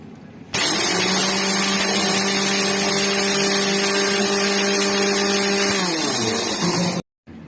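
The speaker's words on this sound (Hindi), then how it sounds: "इसको पीस के दिखाती हूँ दोस्तों" A motorized grinder whirs steadily at full power, grinding tea leaves and other homemade NPK and iron fertilizer ingredients, running loud and continuous for about six seconds before spinning down and cutting off.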